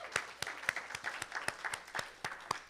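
A short burst of applause from a small crowd, with individual claps distinct and fairly close, uneven and scattered in rhythm.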